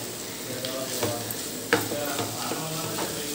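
Capsicum fries in a pan with a continuous close sizzle, broken by scraping strokes as it is stirred and one sharper clink of a utensil.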